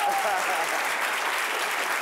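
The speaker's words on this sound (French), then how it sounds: "on l'applaudit très fort" A studio audience on a talk show applauds a guest from Burkina Faso with a dense, even wash of clapping, fairly loud and sustained through the short stretch.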